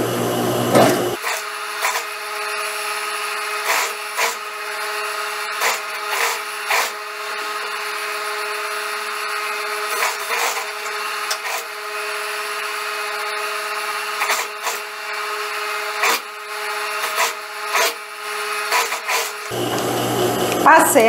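A sewing machine stitching a gathered blouse seam runs in a fast, continuous mechanical whir with rhythmic pulses, starting and stopping abruptly at either end, close and fairly loud.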